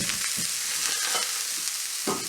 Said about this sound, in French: on est en train de cuire les morceaux de viande, les steaks hachés